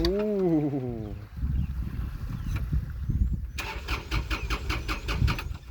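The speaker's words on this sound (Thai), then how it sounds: "สตาร์ท สตาร์ทเลย" A small tractor engine in a flooded rice paddy cranks with a whining starter, then catches and runs with a loud, fast, close putter that builds into steady revving.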